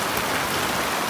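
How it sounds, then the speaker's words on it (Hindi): Heavy rain pours down in a dense, even hiss, loud and continuous with no pauses. "बारिश बहुत तेज है"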